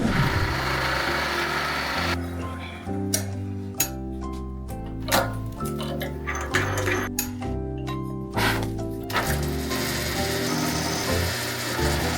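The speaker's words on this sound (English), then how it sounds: "We now need to go drill a whole bunch of holes in this piece of aluminum" A drill press motor hums steadily while a drill bit grinds into aluminum in several bursts, with clinks between cuts and no talking.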